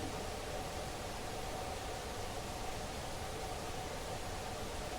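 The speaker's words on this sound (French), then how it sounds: "j'ai mis du bruit rose. Je peux changer, mettre des bruits marrons, bruit blanc." Steady pink noise hisses from a ghost box device, a dense, even broadband wash holding at constant level throughout with no voices, ending in a brief sharp click.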